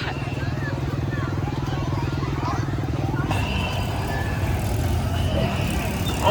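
Motorcycle escort engines in a street parade in Hue, Vietnam, a loud rumbling drone that shifts midway as the bikes pass, mixed with crowd and traffic noise.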